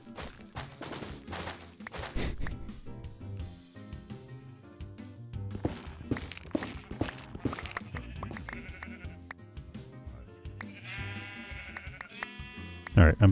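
Sheep bleat in a Minecraft-style video game while someone talks over them, with game music and other effects mixed in; the bleats are brief and scattered through the stretch rather than continuous.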